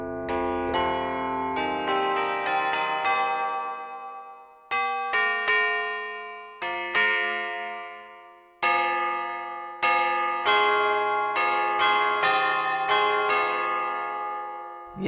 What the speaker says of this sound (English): the next one, Tubular Bells.